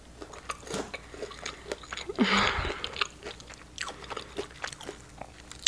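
Close-up crunchy bites and chewing of KFC fried chicken wings, nuggets and drumsticks, with a loud crisp crunch midway and softer mouth sounds around it; no talking.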